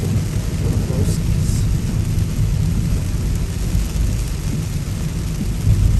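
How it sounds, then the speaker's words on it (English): Heavy rain pours down in a loud, dense, unbroken roar with a deep rumbling undertone, steady throughout without speech. "That rain's heavy, bro."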